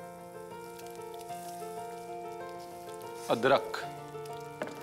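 Chili and garlic paste frying slowly in a pan: a soft, steady sizzle with a brief burst of stirring noise, under a low background tone and a few spoken words.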